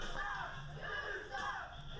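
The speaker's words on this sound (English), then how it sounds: "Crowd, I think they're pleased with the match as they're chanting, "You suck."" Wrestling show crowd chanting in a steady rising and falling rhythm, a dense mass of voices filling the arena at a distance.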